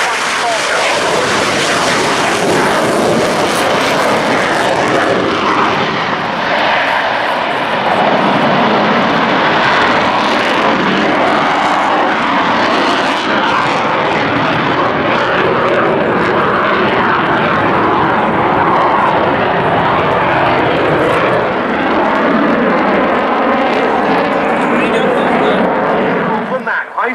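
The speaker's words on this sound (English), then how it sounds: "on the roll now from the Belgian Air component, the General Dynamics F-16A NLU White Falcon" A Belgian Air Component General Dynamics F-16A jet fighter rolls for takeoff at an air show, its loud, broad engine roar steady and sustained throughout, with an announcer talking over it.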